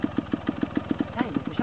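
Small motorcycle engine idling and putting along with a steady rhythmic pulse as a child practises riding on a training course in Aosta, with an adult coach calling out encouragement over it.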